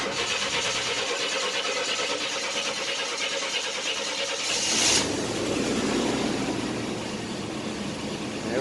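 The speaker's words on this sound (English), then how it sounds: "I guess let's just try to turn it over and see what happens." A 1990 Chevrolet S10 Blazer 4x4 that has sat for about ten years cranks steadily for around four and a half seconds, then catches and settles into a loud, rough running drone. No one speaks.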